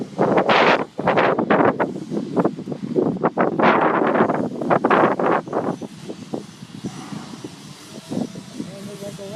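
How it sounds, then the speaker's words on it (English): Wind blowing outdoors on a breezy day at a fire academy parking area, loud rumbling buffets hitting the microphone in gusts, with a person talking throughout much of it. "So if you hear the wind,"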